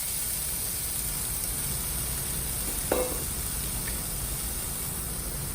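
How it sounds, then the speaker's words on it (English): Frozen peas and carrots sautéing in a pan for fried rice, a soft steady sizzle with a faint clink partway through. "I'm just going to saute the frozen peas and carrots"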